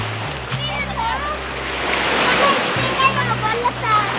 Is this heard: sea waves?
yes